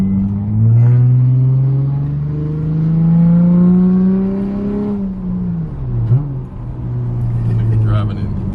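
A car accelerates in third gear on a test drive, its engine note rising steadily and loud up close before easing off, with excited voices talking over it inside the cabin.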